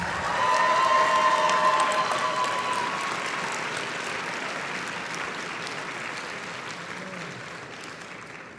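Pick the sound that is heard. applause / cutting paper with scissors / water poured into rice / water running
applause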